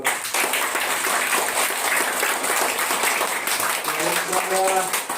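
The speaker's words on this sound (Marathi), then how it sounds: "आपण आपल्या शाळेच्या वतीने यांचं स्वागत करतो टाळ्या वाजून" Sustained applause from an audience welcoming guests visiting a school, steady and fairly loud throughout, with a voice briefly audible near the end.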